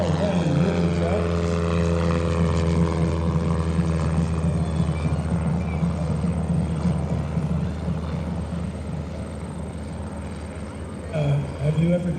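A vintage SNJ propeller trainer taxis at an airshow, its radial engine droning steadily and close with a lumpy, rumbling tone and shifting pitch, while voices carry over it from a loudspeaker.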